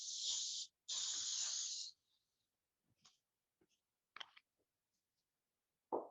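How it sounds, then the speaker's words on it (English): Two sharp hissing bursts of coconut oil cooking spray onto a plain griddle, close and loud, followed by quiet clicks and a few faint small sounds. "Gonna use some coconut oil spray."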